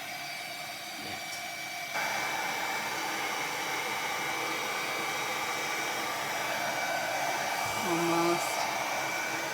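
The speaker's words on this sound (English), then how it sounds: "to dry this really well because when we do the stencil over it, we don't want the paint to pull up on the stencil." A hair dryer blows on fresh paint before stenciling in a fall craft project, a steady, close, loud whooshing hiss that grows stronger partway through, with a single brief spoken word near the end.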